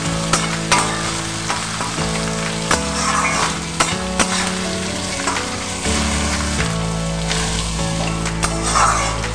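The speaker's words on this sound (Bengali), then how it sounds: "পেঁয়াজটাকে হালকা লাল করে ভেজে নেব।" Chopped onions for a young goat meat curry fry in hot oil in a pan, a loud, steady sizzle with occasional stirring scrapes and bursts of spatter throughout.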